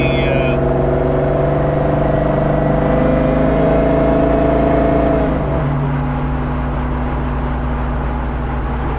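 Close, loud drone of a car on a Roadster Shop chassis, powered by a Gandridge Chevrolet LSX 376 B15 engine with a Whipple 3.0-liter supercharger; the steady engine note drops in pitch about midway and settles lower.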